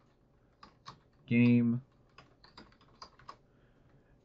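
Keystrokes on a computer keyboard while working in Unreal Engine 4, a quick irregular run of light taps, with a short spoken word partway through.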